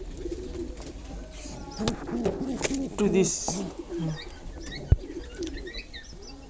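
Breeder pigeons coo softly in low, rolling murmurs alongside faint chirps and a brief flutter, close by under someone speaking, with a sharp knock near the end.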